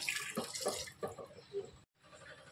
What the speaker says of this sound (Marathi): आपण पाणी पण टाकून घेऊया